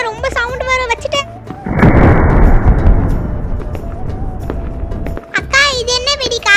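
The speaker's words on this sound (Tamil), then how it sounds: "நெக்ஸ்ட் நான் இந்த ஆட்டோ பம் வெடிக்கிறேன்." An auto bomb firecracker goes off at a Diwali celebration with a loud blast and about three and a half seconds of roaring, crackling noise. A voice talks before and after it.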